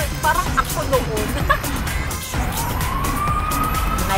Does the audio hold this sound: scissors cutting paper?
no